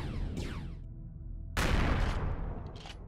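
Bombs falling on Zirax turrets in Empyrion Galactic Survival set off a few rumbling explosions in a row, with a sharp, loud blast at the midpoint that rolls off into a low roar.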